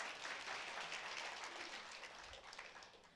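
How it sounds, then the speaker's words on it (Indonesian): A church congregation claps during a New Year's service, a dense, even wash of many hands that stays faint and distant throughout, with no voices on top. "Boleh tepuk tangan."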